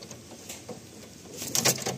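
A Madrasi pigeon in a loft gives soft, low cooing notes with faint rustling nearby, a quiet, close sound that swells slightly near the end.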